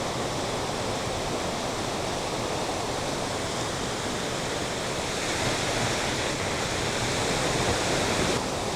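A waterfall roars steadily and loudly at close range, a dense unbroken rush of falling water with no other sounds over it.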